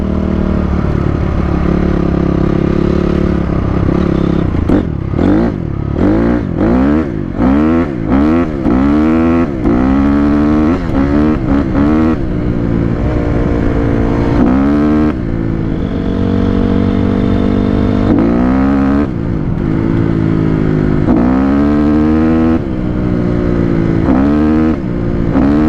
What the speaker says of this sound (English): Look at those burnouts, guys.